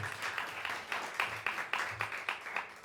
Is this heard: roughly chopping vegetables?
no